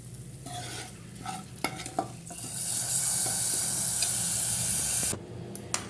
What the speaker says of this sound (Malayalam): നമുക്കിതിൻ്റെ പച്ചമണം മാറുന്നവരെ വഴറ്റി കൊടുക്കാം.